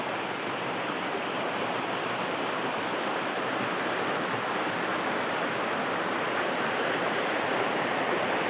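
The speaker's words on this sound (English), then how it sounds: "it's so soothing to sit here and just enjoy the waterfalls" Continuous roar of rushing water from a waterfall at Neer near Rishikesh, broad and steady at a constant loud level, with no voices.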